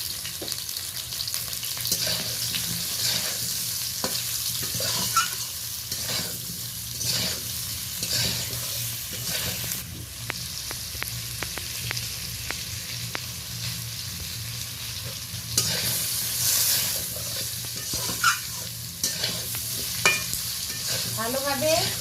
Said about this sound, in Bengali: ভালোভাবে মিষ্টি আলু আম ফোড়নের সাথে দিয়ে আরও ভালো করে একটু কষিয়ে নিলাম